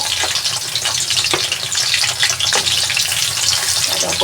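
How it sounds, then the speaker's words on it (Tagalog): Chicken fries in hot oil with a loud, dense, continuous sizzle and crackle, heard up close and without talking. "Umpisahan na sa pagprito."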